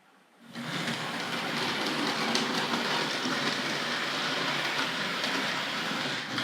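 A Hornby Dublo GWR 0-6-2 tank model locomotive in OO gauge starts up and runs on the track, a close, steady whirring rumble with a fine rapid clatter that holds evenly throughout.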